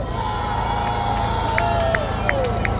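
Rally crowd cheering and shouting outdoors, with whoops and a long wavering call over a steady roar of voices, light clapping mixed in throughout.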